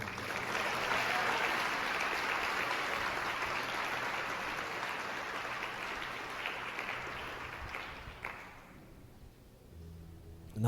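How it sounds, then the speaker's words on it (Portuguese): A church congregation claps in praise during a sermon, a dense sustained round of applause that fills the room before dying away near the end into quieter background. "Se você crê nisso, aplauda o Senhor."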